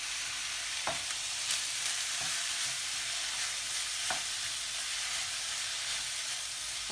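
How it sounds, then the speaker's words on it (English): Thai fried rice sizzles steadily in a hot pan as soy sauce goes in, a continuous close hiss broken by a few sharp clicks of a utensil on the pan, with no talk. "1 tablespoon of soy sauce. Okay, that goes in."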